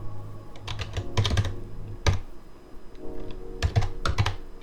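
Code being typed on a computer keyboard, close and clear, with bursts of rapid key clicks broken by short pauses.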